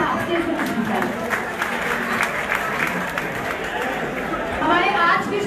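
An audience at an Urdu poetry gathering applauds as a poet is welcomed to the stage, continuous clapping blended with crowd chatter, a voice heard alongside.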